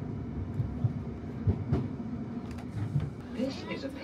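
Interior rumble of a London Underground Piccadilly line train running from Zone 4 toward Zone 1, a steady low roar with occasional clunks and squeals, light talk faintly underneath.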